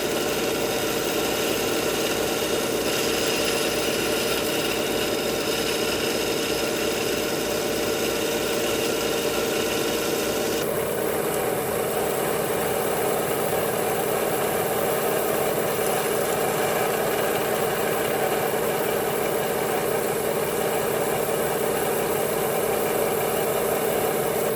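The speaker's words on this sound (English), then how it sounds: "we're just going to run it right on the belt sander" A belt sander grinds the corners of a soft aluminum piece, a loud continuous whirring drone that holds steady, its tone shifting partway through as the metal is pressed against the belt.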